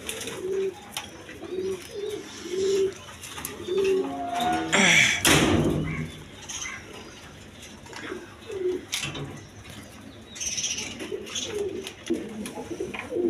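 German beauty pigeons cooing in a pen, repeated soft throaty coos in a loose rhythm, broken midway by a sharp rustle and thump of wings or movement, then cooing resumes.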